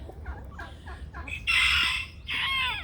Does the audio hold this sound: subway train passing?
no